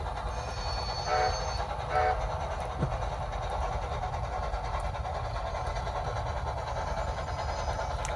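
An O scale model train runs with onboard sound effects: a steady rumbling loop under a couple of faint horn-like tones, quiet and slightly distant, with murmured talk in the room.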